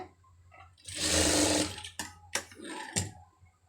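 A sewing machine stitches around a blouse sleeve in one sustained run of about a second, then a few short bursts of stitching, close and fairly loud with no talking.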